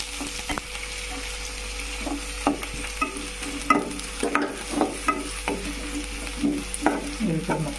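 Onion pieces frying in oil are stirred back and forth, giving a steady sizzle broken by repeated scraping strokes of the spoon against the pan.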